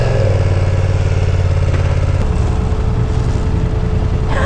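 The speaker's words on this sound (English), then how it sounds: "That's how we rockin' it on a motorcycle." A motorcycle engine runs steadily and loudly up close, a constant mechanical drone with a slight shift in tone partway through and no voices over it.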